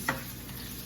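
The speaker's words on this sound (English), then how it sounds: "You cook all those flavorful ingredients in oil to benefit from it." Flavorful ingredients sauté in hot oil, a brief steady sizzle with one quick stirring clack near the start, close and without talk.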